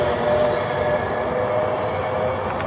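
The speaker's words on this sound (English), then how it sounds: "I do love that sound of Pendolinos." A Virgin Pendolino train at a station platform, a steady loud rumble and hum with a sustained tonal whine, passing close by with no one talking.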